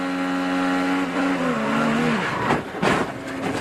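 IndyCar race car at the 2017 Indianapolis 500, its engine a loud sustained drone that falls in pitch as the car slows, then rough bursts of engine and track noise near the end.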